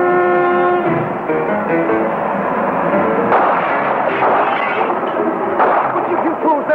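Gunfire from a gun left in a wagon, a film sound effect, comes as loud heavy booming bursts over a constant droning tone, with a couple of sharper reports near the end.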